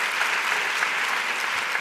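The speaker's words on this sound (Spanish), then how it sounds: "vamos a aplaudir" An audience applauds in a conference hall, a short, even burst of dense clapping from many hands, steady and fairly loud with no voices over it.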